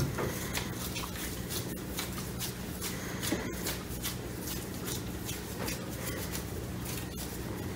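Play dough being kneaded and squished by hand with drops of food colouring worked in, a soft continuous shuffling and squelching with faint irregular taps, close and quiet.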